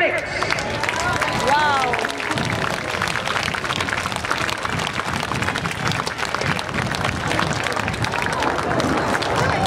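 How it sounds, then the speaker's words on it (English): Applause from an outdoor air show crowd at the Bournemouth Air Festival, a steady wash of clapping and cheering that holds at an even level throughout, with a brief spoken exclamation and a whine near the start. "let's have a huge round of applause"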